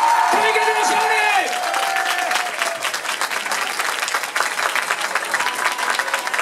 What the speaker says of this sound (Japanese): 神風が勝ったところの人拍手